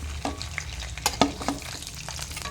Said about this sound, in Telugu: మనము ఎండుమిర్చి వేసేసుకుందాం. ఎల్లిపాయలు కూడా వేసేసుకుందాం. చింతపండు కూడా వేసేసుకుందాం.